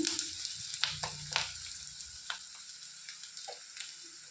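Hot oil in a home kitchen sizzles steadily as turmeric is added, with sharp crackles and small pops spread across the sizzle and no talk over it.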